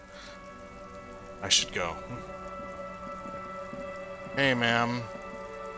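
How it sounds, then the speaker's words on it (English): Steady rainfall from the video game Disco Elysium, a constant patter running under game music and two short bursts of a man's spoken dialogue. "It's raining again."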